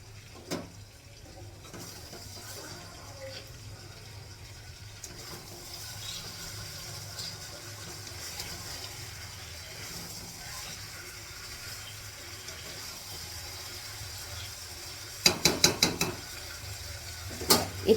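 Spattered mixer grinder jars get washed under running water, with a steady low trickle, occasional clinks and scrapes, then a quick burst of sharp metallic clatter near the end, all fairly close and without talk.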